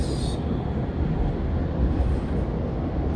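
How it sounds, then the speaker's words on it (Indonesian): Turangga passenger train rolling across the Kalibrantas bridge, heard from inside the carriage as a continuous low rumble and rattle, steady and fairly loud, with a brief higher hiss at the start. "Terdengar ya saat kereta api Turangga melewati jembatan Kalibrantas."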